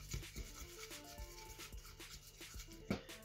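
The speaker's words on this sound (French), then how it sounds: "Je viens mélanger tout simplement pour voir ce que ça donne." Silver glitter gel is stirred into slime close up, giving soft rhythmic rubbing and squishing strokes at a steady pace, quiet and without speech.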